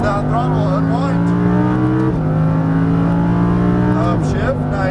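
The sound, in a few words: Lamborghini Huracan LP610-4 accelerating on a track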